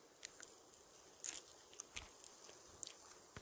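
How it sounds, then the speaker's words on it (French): Someone bites into a crispy cooked trout tail, and the light crunches come as a few sharp, brief clicks over a quiet background. "La petite queue de la truite qui ça mange comme des chips. Très croustillant."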